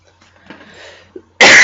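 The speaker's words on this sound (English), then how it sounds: "I've got a really bad cough post-festival" One sharp, loud cough from an adult with a bad post-festival cough bursts out at the end after a few faint breathy throat noises, close to the microphone.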